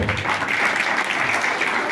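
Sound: applause

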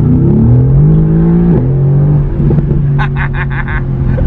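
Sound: Mercedes AMG GTR engine revving and downshifting

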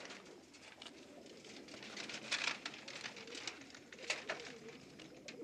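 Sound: pet birds cooing, pigeons or doves

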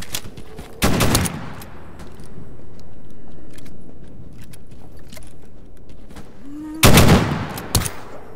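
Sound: gunfire from an NPC in the video game STALKER GAMMA

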